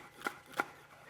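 A knife slices a leek into little half moons on a cutting board, giving two crisp, close cuts about a third of a second apart against an otherwise quiet kitchen.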